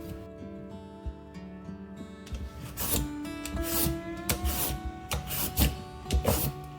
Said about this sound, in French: Ensuite, on va éplucher nos carottes et faire exactement la même chose. De longs rubans fins assez souples pour se courber.